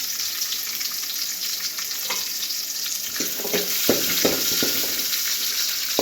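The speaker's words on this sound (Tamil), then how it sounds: "ஆனியன்லாம் நல்லா வதங்கிட்டோம்" Onions sautéing in a pan for a bitter gourd stir-fry give off a steady, close sizzle, with a few sharper crackles and stirring scrapes toward the end.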